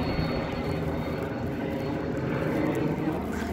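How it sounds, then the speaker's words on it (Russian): A large airplane passes overhead, a steady broad engine roar that holds at constant loudness throughout with no voices over it. "Какой самолет над нами пролетает."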